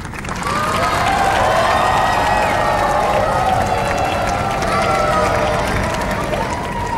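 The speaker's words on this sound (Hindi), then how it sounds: "तालियों की ये गड़गड़ाहट हमेशा मैदान में रहती थी" A large crowd applauds at the stage event before the India–Pakistan cricket World Cup match, with sustained thunderous clapping and cheering that holds steady for several seconds.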